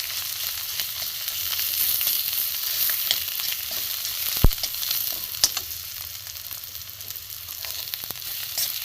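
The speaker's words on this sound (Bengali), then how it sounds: "ফুলকপির পাতা বাটা এবার আমি কড়ার মধ্যে একটুখানি নেড়ে নেব" Ground cauliflower leaf paste sizzles steadily in a wok over high heat as it dry-fries, with occasional scrapes and one sharp knock of a spatula stirring it around.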